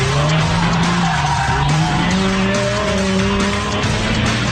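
A 1988 Yugo GV sliding off a race course, loud continuous tire squeal and skidding with wavering pitch over a straining engine drone, heard close and sustained without talk.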